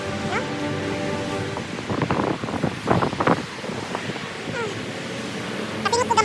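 Wind gusting outdoors, buffeting the microphone with uneven rumbling bursts, mixed with a wash like surf or rustling, and faint voices underneath.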